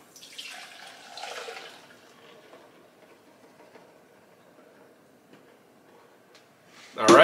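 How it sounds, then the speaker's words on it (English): Blended liquid from a Vitamix or Blendtec blender is poured through a sieve, giving a soft splashing trickle early on that fades to near quiet, then a sudden loud clatter at the very end. "We're gonna go ahead and pour this through the sieve."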